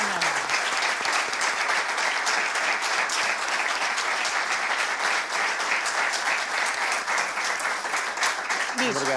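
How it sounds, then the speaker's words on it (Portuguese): An audience at a folklore gathering gives Dona Zita a dense, steady round of applause that lasts throughout, with a voice faintly heard toward the end. "Uma grande salva de palmas para a Dona Zita, que muito fez o folclore daqui da Nova."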